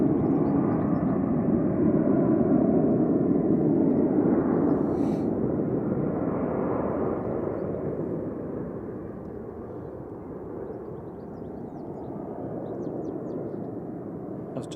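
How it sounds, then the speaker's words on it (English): Boeing 737-800 airliner taking off from Manchester Airport, a distant low jet rumble that swells early, then fades slowly over about fifteen seconds, with one faint bird call near the start. "Two on the roll. Heading off to Rhodes 737-800 GTAWO."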